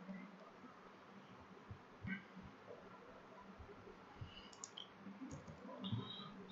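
A computer mouse clicking a few times at a desk, small sharp ticks spaced irregularly over quiet room noise.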